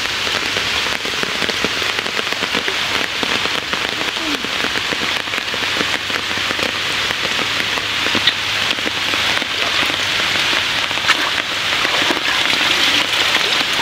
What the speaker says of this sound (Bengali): দেখেন চারিদিকে শুধু বৃষ্টি আর বৃষ্টি পড়তেছে